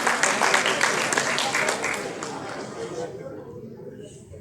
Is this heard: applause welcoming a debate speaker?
yes